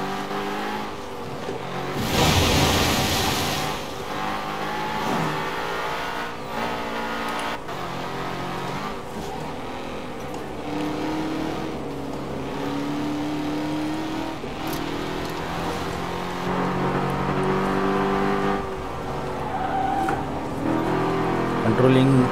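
A BMW M5 drives fast on an Indian highway, its engine droning steadily as it accelerates, with road and wind noise throughout and someone talking over it.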